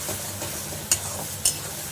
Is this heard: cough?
no